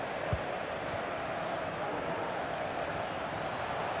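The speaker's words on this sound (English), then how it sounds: "Being egged on by the crowd" A football stadium crowd at a Ghana versus Denmark World Cup match roars steadily, a dense continuous wall of cheering and urging with no breaks.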